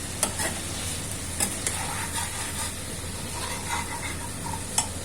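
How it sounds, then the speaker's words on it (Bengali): Chopped onions go into chicken frying in a pan, giving a steady close sizzle broken by several sharp scraping stirs of a utensil. "বুঝলো পেঁয়াজ কুচিটা দেওয়া হচ্ছে তিনটে পাঁচশো গ্রামের জন্য তিনটে পেঁয়াজ কুচি আছে মিডিয়াম সাইজে"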